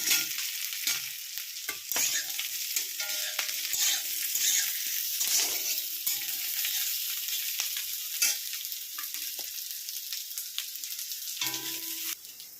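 Potatoes and green chili frying in a pan, a steady close sizzle with repeated scraping stirs and clinks of a spoon against the pan throughout.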